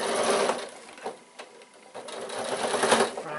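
A sewing machine stitches a piped fabric bag in a steady, fast mechanical whir, close and clear, with brief slowdowns and restarts over a few seconds.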